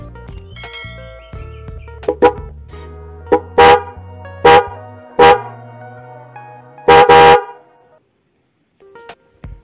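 A Denso car horn wired without a relay sounds in short honks, a handful of separate loud blasts with gaps, including a longer double blast near the end, close by.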